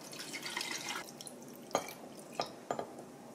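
Liquid marinade for Korean radish pickles pours into a jar with a soft, steady trickle. A few distinct drips and splashes follow as the stream tapers off, heard close and without speech.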